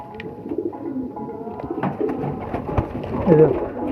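At night, pigeons fed soaked chickpeas coo softly at close range, with low throaty calls repeating irregularly amid light rustling and faint background voices.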